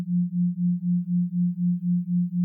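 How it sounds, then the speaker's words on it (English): Two pure tones a few hertz apart blend into one steady low hum that swells and fades in a regular pulse, four smooth beats per second, clean and alone. "Here's 4 beats in 1 second."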